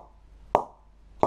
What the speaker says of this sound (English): I'm gonna bounce an old ball on it, followed by a new ball.